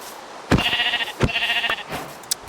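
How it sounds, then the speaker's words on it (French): Two clear sheep bleats from a Minecraft horror mod, each a wavering harmonic cry lasting about half a second, separated by a short pause and heard with no talk over them, followed by a fainter third call. "Il y a des moutons."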